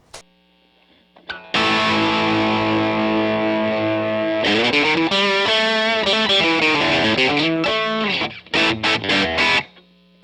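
An electric guitar on the bridge pickup plays through a Mesa Boogie Mark V amplifier's high-gain channel 3. It opens with a sustained distorted chord, moves into chugging palm-muted riffs, and ends in choppy stabs that cut sharply to silence.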